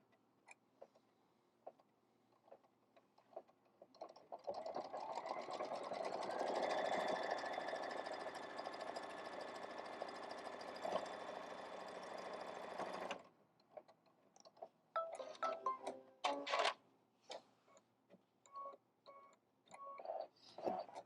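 A sewing machine stitches a placement line on a hexagon quilt, running in a steady, loud whir for about nine seconds before stopping, followed by scattered handling clicks and taps.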